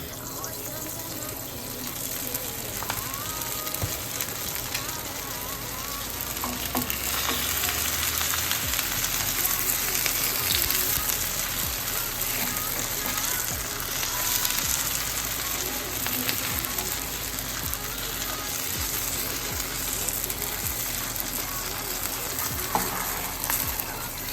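Potato dosa fries in oil on a pan, giving a continuous soft sizzle and crackle at moderate distance with occasional faint clicks, low and even throughout.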